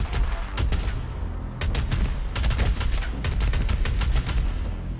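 Rapid gunfire from the video game Doom Eternal, dense bursts of loud booming shots with short gaps, continuous and close over the whole stretch.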